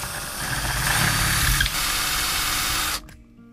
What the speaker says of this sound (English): I'm gonna go up one more size to a 1/4 inch drill bit